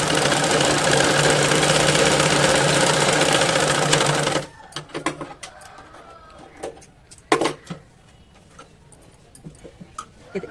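An electric sewing machine runs a long steady stitch on baby top fabric, then stops, followed by scattered clicks and handling of the cloth.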